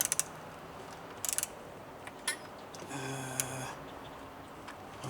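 A small 1/4 inch ratchet works on a coolant hose clamp of an Alfa Romeo Stelvio QV, giving short bursts of quick metallic clicking separated by quiet pauses, fairly close.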